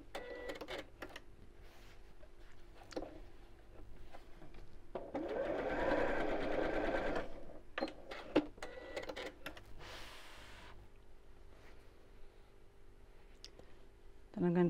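A sewing machine stitches a seam on a drawstring Christmas stocking in one short whirring run amid clicks and fabric handling, while someone talks quietly before and after.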